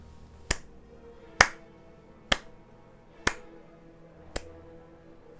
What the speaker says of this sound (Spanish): el lento sonido de unos aplausos los interrumpió